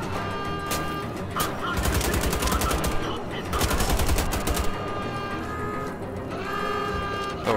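Rapid automatic weapon fire in the first-person shooter game Wolfenstein: The Old Blood comes in loud bursts over a busy game soundscape.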